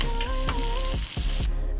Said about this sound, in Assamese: এইখিনিও মই ধুনীয়াকৈ কম জুইত অলপ সময় ভাজিম